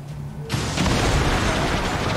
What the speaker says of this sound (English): you're getting a rocket in the face because I hate these guys